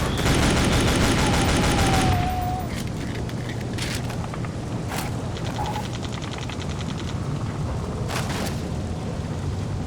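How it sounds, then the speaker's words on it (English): Shotgun fire in the shooter game Iron Storm (World War Zero) opens with a dense, loud burst of blasts, followed by scattered, sharper single shots over a low rumbling game background. "The shotgun is oddly satisfying."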